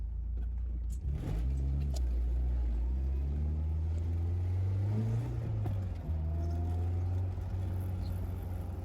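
A BMW E36 engine drones steadily while driving, a loud low hum inside the car that rises in pitch as the car speeds up, dips with a gear change, then settles again.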